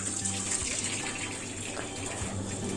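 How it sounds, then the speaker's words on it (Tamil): Cooked pasta drained through a strainer in a home kitchen, a continuous gushing pour of water splashing steadily throughout, close and moderately loud, with no talk. "குக் ஆனதுக்கப்புறமா இந்த மாதிரி ஃபில்டர் பண்ணிக்கோங்க."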